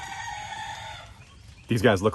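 A rooster crows loudly and close by near the end, after a stretch of steady background hum with faint clucking from black chickens.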